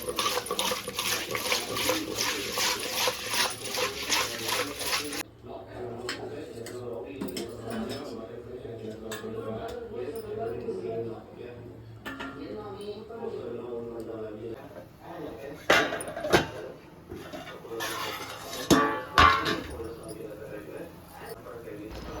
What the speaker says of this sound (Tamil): நல்லா குழம்பு கொதிச்சிடுச்சு.